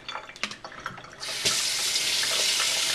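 Hot water runs from a household tap in a steady, bright splashing stream that begins partway through, after a few quieter clinks and drips, and continues alone at close range.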